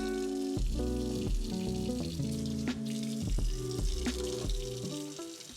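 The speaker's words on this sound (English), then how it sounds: "This is the last of the major dishes to wash." Dishes being washed in a kitchen sink under steady running tap water, with intermittent clinks of plates and utensils close by and no talking.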